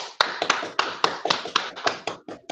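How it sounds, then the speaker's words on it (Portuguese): A few people clapping at the close of a film discussion session, sharp, close hand claps in an irregular rhythm, loud and clear for a couple of seconds. "palmas para nós."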